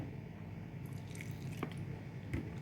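Soft, wet squishing as a mixed vegetable and bitter gourd pickle with a little vinegar is worked by hand, with faint irregular squelches throughout and a couple of slightly sharper moist squeezes, quiet and close.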